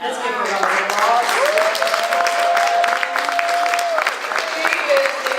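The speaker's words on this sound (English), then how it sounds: "Let's give her a round of applause." An audience at a diplomatic tea event applauds steadily, a dense wash of clapping filling the whole stretch, with a voice speaking over it.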